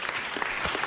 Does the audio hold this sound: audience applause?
yes